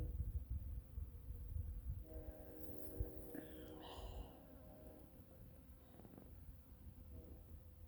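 Honeybees buzz steadily around flowers outdoors, a close, continuous drone with changing pitch as individual bees pass near, over faint wind and low rumble.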